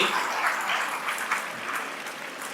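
Audience applause at the close of a World Soil Day address, a steady, full round of clapping that holds evenly for a couple of seconds.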